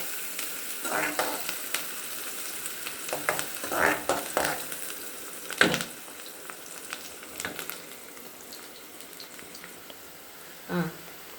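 Onions frying in a pan for egg fried rice give a light, crackling sizzle nearby, with irregular clatters and scrapes from stirring and a few sharper knocks now and then.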